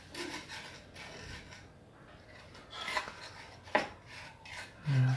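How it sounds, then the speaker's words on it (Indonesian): A mortar and pestle grinds bread into fishing bait in a few soft, irregular rubbing and scraping strokes, with a couple of sharper knocks, faint and close, without talk. "Kita haluskan dulu."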